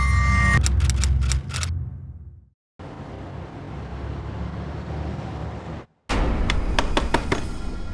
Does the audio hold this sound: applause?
no